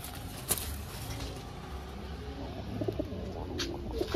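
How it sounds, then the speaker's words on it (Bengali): Pigeons in a Kolkata loft give low, soft coos against a light background hiss, with a few faint chirps and patters nearby. "এই যে দুটো পায়রা দেখছেন দুটোই আমার খোপেরই বাচ্চা"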